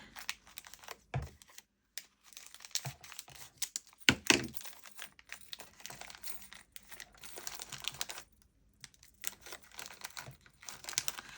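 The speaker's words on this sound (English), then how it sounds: "Let's just open up the bag." Plastic bag being pulled and torn open up close, irregular crinkling and crackling with a few sharp rips and quiet gaps between bursts.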